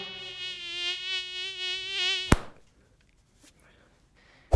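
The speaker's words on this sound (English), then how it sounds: "the mosquito." A single mosquito whines close to the ear, a steady high buzz wavering slightly in pitch for about two seconds before a sharp slap-like click cuts it off, leaving near silence.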